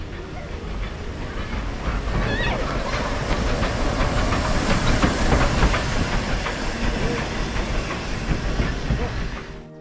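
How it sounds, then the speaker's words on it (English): Steam locomotive on a heritage railway line at Embsay and Bolton Abbey, running around its train: a steady broadband roar of hissing steam and rolling rail noise, close and loud throughout, with faint clanks and a few short whistle-like tones. "The loco needs to run around, ready for the return trip."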